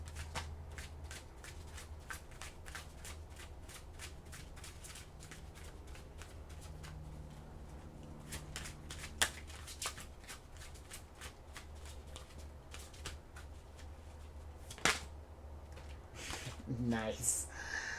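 Oracle cards being shuffled by hand, a rapid run of close, crisp riffling flicks with a few sharper snaps, under quiet talk.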